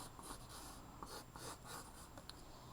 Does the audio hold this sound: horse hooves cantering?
no